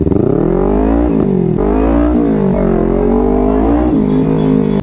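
Dense road traffic with cars and motorcycles, engines droning and revving loudly and continuously nearby, with no break in the sound.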